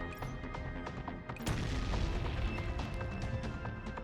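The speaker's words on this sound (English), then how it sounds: "the agent fighter chose to end his life by detonating his core" An in-game explosion in Girls' Frontline: Neural Cloud as a fighter detonates his core: a dense barrage of blasts and crashing impacts that swells midway into a sustained loud roar, heard alone without talk.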